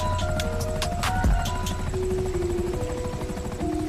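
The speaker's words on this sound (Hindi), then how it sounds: "बाबा के बैठते ही हेड ऑफिसर हेलीकॉप्टर लेकर यहाँ से निकल जाता है।" A helicopter takes off after a passenger boards, its loud, close rotor thump and turbine whine running steadily with a brief pitch sweep partway through and no talk.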